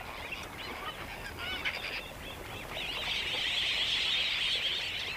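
A flock of flamingos feeding on wetland sand flats gives a dense, continuous chorus of honking, goose-like calls, steady at first and swelling louder and busier in the second half, with no talk over it.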